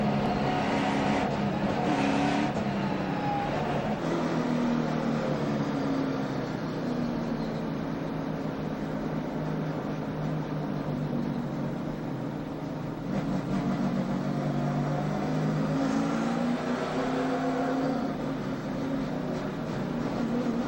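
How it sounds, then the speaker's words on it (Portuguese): NASCAR stock cars circle the track in a 2008 race, their engines droning loud and continuous with rising and falling pitch as cars pass, the roar never letting up. "Ali você via o carro de Brian Vickers."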